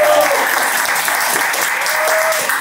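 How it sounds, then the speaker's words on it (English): Steady, full applause from an audience at an anniversary event at Cultivar House in San Jose, continuous and close, with a few faint voices mixed in. "they deserve a round of applause,"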